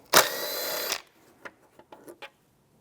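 A power tool drives a T30 socket to remove a screw from the engine cover of a 2010-2016 Cadillac SRX, giving one loud, close burst just under a second long, followed by a few brief faint clicks and handling sounds.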